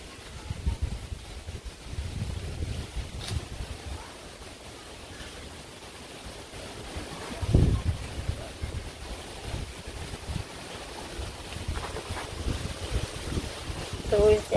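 Gusty wind blows through a village under a darkening sky before a storm, buffeting the microphone with low rumbling surges and one strong gust midway.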